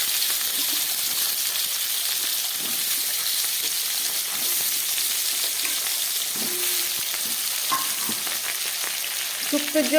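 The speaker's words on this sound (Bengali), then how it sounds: "এবার এক এক করে সবজিগুলো আমি ভেজে নিচ্ছি।" Chopped vegetables for Bengali niramish shukto frying in oil tempered with radhuni, a steady close sizzle with light stirring scrapes throughout.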